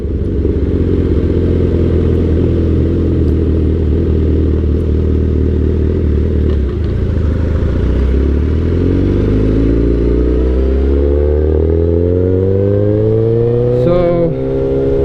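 A 2008 Suzuki GSX-R 1000 sport bike with an ECU flash tune runs steadily up close, its loud engine droning evenly before climbing in pitch through a rising rev toward the end.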